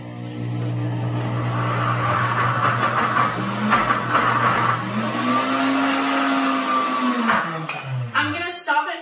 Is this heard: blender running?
yes